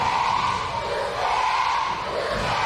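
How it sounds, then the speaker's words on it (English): Wrestling fans at a live show chanting in unison at a wrestler, a loud dense crowd roar with a rhythmic, repeating swell, brief and close. "The crowd chanting, "You scared.""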